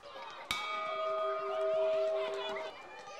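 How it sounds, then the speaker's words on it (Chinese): An empty artillery shell casing hung as a school bell is struck once. It gives a sharp clang followed by a long ringing tone that fades over a few seconds, with faint crowd noise behind it. "孩子们上课的铃声来自于这枚空炮弹壳。"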